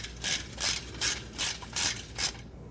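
A ratchet wrench cranks loose the bolts on a catalytic converter heat shield, six steady bursts of clicking pawl, close and clear with no talk.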